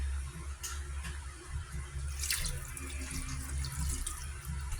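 A cup of water is poured into a cooking pan holding a little oil while making paksiw na bangus. The splashing flow runs continuously for about five seconds, close and clear.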